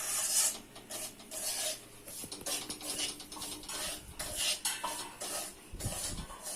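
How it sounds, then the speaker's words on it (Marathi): Semolina roasts in a pan for Godacha shira while a spoon keeps stirring it, making a steady, scratchy rasping with soft scraping strokes against the pan. Nobody speaks. "रवा आपल्याला हलका रंग चेंज होईपर्यंत भाजायचा आहे"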